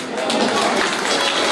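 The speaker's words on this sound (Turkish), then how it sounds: "şöyle kuvvetli bir alkış alalım." At a village association's goose night event, a packed audience claps in a dense, steady burst of applause, loud and close throughout.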